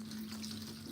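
Running water splashes steadily over garden vegetables being washed thoroughly, a soft continuous rush heard close under a low background hum.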